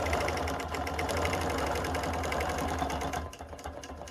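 Sewing machine stitching quilting through fabric on a bat-themed quilt, a fast steady mechanical whir and rapid needle chatter that runs loudly for about three seconds and then stops abruptly.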